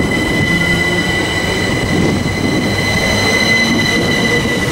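A Southern Class 377 Electrostar electric passenger train rolls steadily through Preston Park station with a loud, continuous rumble, high-pitched wheel squeal and electrical whine, no voices.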